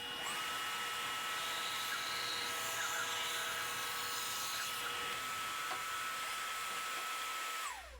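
A power saw makes a freehand curved cut in wood for a woven charcuterie board, a steady high whine running continuously and loudly for the whole stretch before cutting off at the end.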